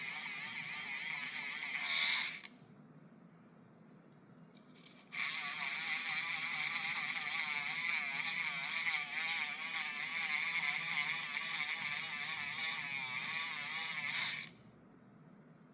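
A small drill with a diamond bit drills through a stone bead in a loud, close, steady whine, running about two seconds, pausing, then grinding continuously for about nine more seconds before stopping.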